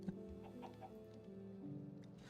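A chicken in a Minecraft modpack is hit and killed, giving a few soft, faint clucks over a low steady game background hum.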